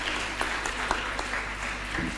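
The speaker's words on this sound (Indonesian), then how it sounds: "Tepuk tangan untuk beliau." An audience at an Islamic study gathering applauds as a speaker is invited up. There is a brief, dense burst of clapping with a few louder individual claps, running continuously over its short length.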